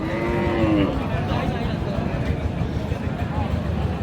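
A cow moos loudly and close at a rural cattle market in Dinajpur, one long low call at the start over the constant murmur of the crowd and talk.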